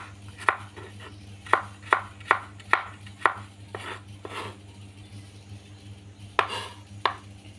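A knife slices vegetables thinly on a cutting board for a stir-fried cauliflower and mushroom dish, making a steady series of crisp taps that slows into a few scattered cuts over a low background hum.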